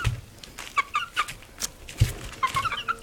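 House chickens cluck and make soft chattering calls while eating lettuce indoors, repeated short clucks near the microphone with small bumps and pecking sounds.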